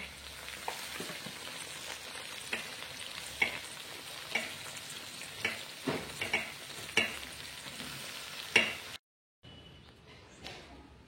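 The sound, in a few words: bitter gourd frying in a pan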